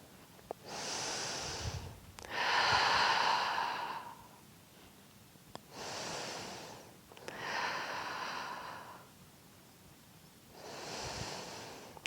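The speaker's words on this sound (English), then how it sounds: "Deep breathing." Slow, deep breaths during a beginner Pilates core workout, close and soft, with alternating long inhales and exhales in a steady rhythm, several breath cycles with quiet gaps between.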